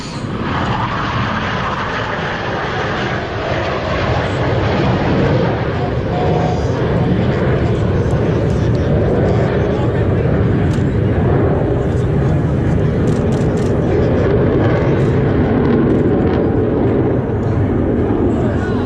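Blue Angels jets making a low pass overhead at a Pensacola, Florida air show practice, a loud sustained roar that swells and holds, with a voice heard over it.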